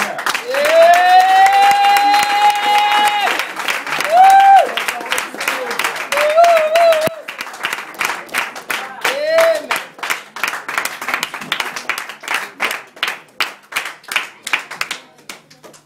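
A church congregation in Paris applauds and cheers, with loud rhythmic clapping that grows more regular toward the end while voices shout and sing over it.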